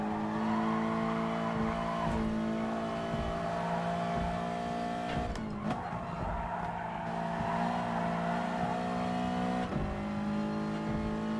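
Race cars in Gran Turismo Sport pulling away, engines droning and revving steadily with shifting pitch and a brief tire squeal partway through, loud and continuous with no talk.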